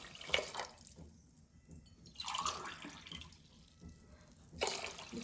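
Water is poured from a glass into a pot of rice for methi rice, four cups in all, with splashing, trickling bursts at the start, middle and end and quiet gaps between.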